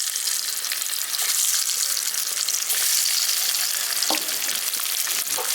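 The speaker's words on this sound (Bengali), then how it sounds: "তেলটা গরম হয়ে গেছে, এবার নুন হলুদ মাখিয়ে রাখা ডিমটা আমি দিয়ে দিচ্ছি।" Eggs coated in salt and turmeric fry in three spoons of hot white oil, cooking for an egg masala curry. A loud, close, continuous sizzle crackles with a few sharper pops.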